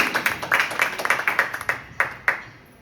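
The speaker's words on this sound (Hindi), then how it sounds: "सबसे तेज ताली भी की।" A short burst of clapping at a devotional kirtan gathering: quick, sharp claps from a small group, tapering off after a couple of seconds.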